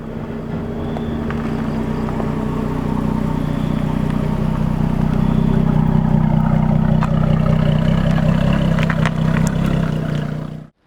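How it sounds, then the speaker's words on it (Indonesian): A 2016 Jaguar F-Type drives past or accelerates with a loud, steady exhaust roar and deep engine drone heard close, fading out sharply at the end. "Suara knalpot yang dihasilkan mobil ini jelas itu suara dari tahun 80-an"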